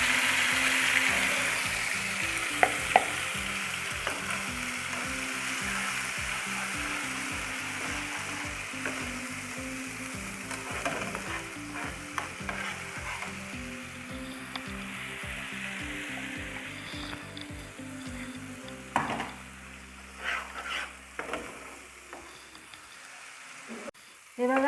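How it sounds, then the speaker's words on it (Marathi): Ground spice paste for Hyderabadi paneer masala fries in hot oil with bay leaves and cumin, a close, steady sizzle broken by repeated stirring scrapes, under intermittent speech. "तो मिक्सरमध्ये बारीक केलेला मसाला आता मी त्यात टाकते"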